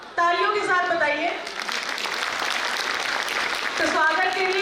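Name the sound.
audience applause at school annual day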